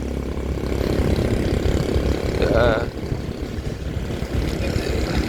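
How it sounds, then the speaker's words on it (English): Loud engines of motorbikes on a rural Vietnam road roar past close by, a dense droning wash with one passing machine whining upward around the middle, steady throughout. "some motorbikes are too noisy"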